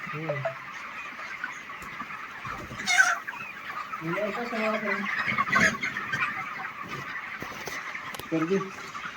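Chickens on a poultry farm give scattered clucks and short calls, some close and some farther off, over a steady background hum of the shed, with a few louder squawks.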